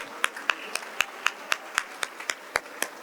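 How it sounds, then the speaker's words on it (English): A single person claims a steady, evenly spaced clap, about a dozen crisp hand claps at a brisk rhythm, close and fairly loud, at a Harris County budget event where the audience is asked to applaud; no crowd-wide applause is audible. "Can we give them a round of applause,"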